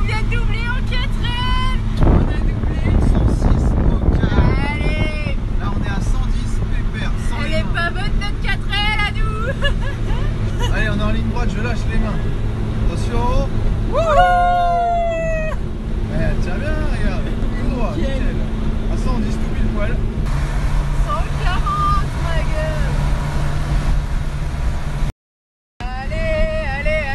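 A Renault 4L driving on a motorway and overtaking, with a steady engine and road drone under ongoing talk inside the car, plus passing traffic noise.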